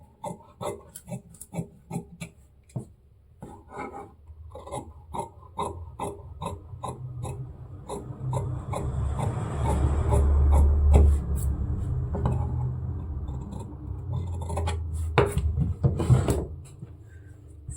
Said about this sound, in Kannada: ಅದೇ ಮಾರ್ಕಲ್ಲಿ ನಾನು ಕಟಿಂಗ್ ಮಾಡ್ತಾಯಿದ್ದೀನಿ.